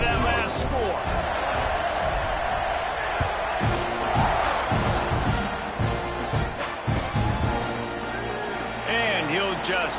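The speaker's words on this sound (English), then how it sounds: "this crowd is buzzing after that last score" A football stadium crowd roars and buzzes after a touchdown, a dense, sustained wall of cheering and chatter with a few sharp slams and whoops rising out of it.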